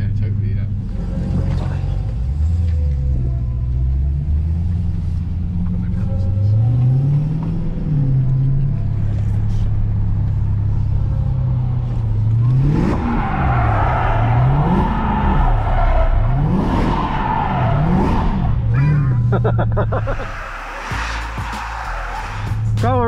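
A Dodge Hellcat drifting through power slides, its engine roaring and rising and falling in pitch alongside squealing tires, loud and close, with people talking over it.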